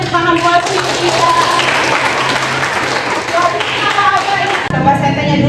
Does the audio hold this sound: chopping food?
no